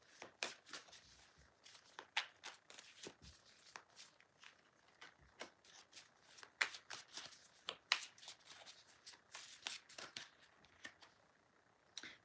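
Oracle cards riffle and shuffle close by, a quick run of soft papery flicks and snaps, with a card drawn from the deck at the end and no talk.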